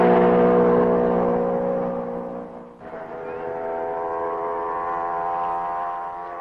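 Fangio's Mercedes W196 racing car at the 1955 Belgian Grand Prix drives past with a loud, sustained engine whine that sags, dips briefly at a gear change, then climbs steadily again.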